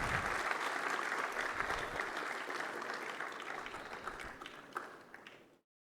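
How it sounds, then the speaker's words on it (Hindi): An audience at a CRPF special investiture ceremony gives loud, sustained applause welcoming the chief guest; the dense clapping holds steady for over five seconds, tapers slightly, then cuts off into silence. "जोरदार तालियों के साथ माननीय मुख्य अतिथि महोदय का स्वागत एवं अभिनंदन करें"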